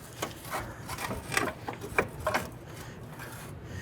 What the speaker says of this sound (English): Now I'm gonna put a pry bar between the knuckle and the lower control arm.